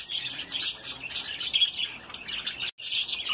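Budgerigar parakeets, a breeding pair with their chicks, chirp and twitter continuously at close range, a busy overlapping stream of bright high calls with one brief gap near the end.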